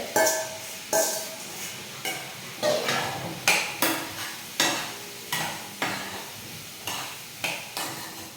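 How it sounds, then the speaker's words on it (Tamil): Coconut fries in a pan while a spoon stirs it in brisk, regular strokes, each a sharp scrape followed by a short sizzle, repeating about every half second, close and clear with no talk. "இப்போ நம்ம தேங்காயை போட்டு நல்லா ஃப்ரை பண்ணிக்கலாம்."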